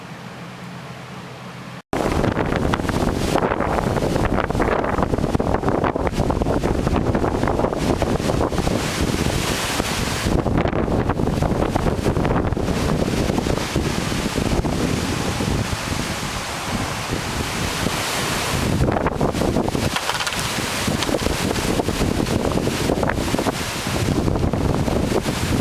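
Strong Hurricane Irene wind on Cape Cod, a loud roaring gust that starts abruptly and buffets the microphone without letup, heavy rumble and hiss throughout with no voices.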